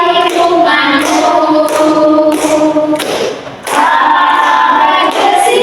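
A primary school class claps hands in a steady beat along with a sung children's song about caring for the environment. Regular rhythmic claps sound over the voices, briefly pausing midway.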